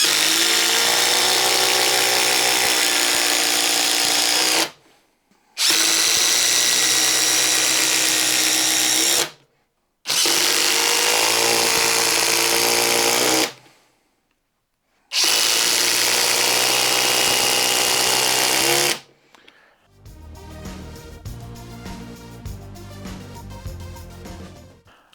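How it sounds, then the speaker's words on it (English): Ridgid 3-mode cordless impact driver runs in four long, loud bursts of rapid hammering as it drives fasteners, each burst separated by a brief silence, followed by a stretch of quieter mechanical rattling. "first we'll show the 2 and the 4 times for the old 3 mode impact driver"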